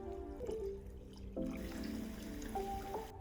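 Water poured into a saucepan of grain for cooking in a home kitchen, a steady close trickle and splash running for a few seconds with shifting pitch as the pot fills.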